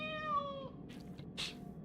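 A cat meows in the Genshin Impact video game, a single drawn-out, clearly pitched call near the start, followed by a few faint rustling sounds over a quiet background hum.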